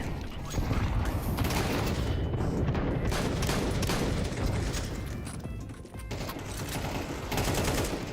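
Rapid bursts of gunfire in a multiplayer video game shooter, including AK rifle fire, fill the clip as loud, dense, continuous volleys with a brief dip near the end.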